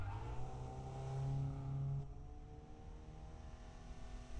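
A tuned car in the Need for Speed video game pulls away, its engine droning and rising in pitch before settling into a steadier, quieter hum.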